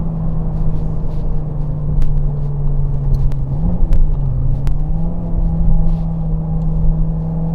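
Citroen C4 VTS engine revving steadily while driving, a loud continuous drone with the pitch holding level, then dipping and climbing again, with a few faint clicks over it and no talk.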